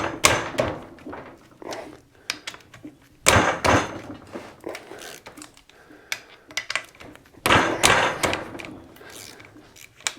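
Loose head bolts on a Massimo MSU 700 engine are cracked with a wrench in a crisscross pattern, giving several close, sharp bursts of ratcheting and metallic clicks separated by quieter handling noise.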